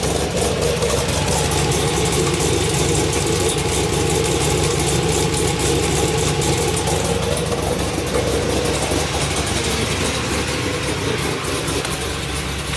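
A car engine idles through a Hooker Blackheart exhaust, a steady, fairly subdued low rumble that holds evenly throughout, heard from nearby with no talking.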